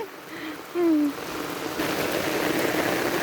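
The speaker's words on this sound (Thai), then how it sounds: "โอ้ยฝนพาจะมาอยู่ทางนี้" Heavy rain falling outdoors, a broad steady hiss that swells and stays constant, with a brief voice heard near the start.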